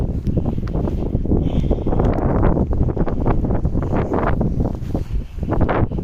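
Steady, loud wind gusting and buffeting the microphone outdoors, with a broad roar that rises and falls throughout.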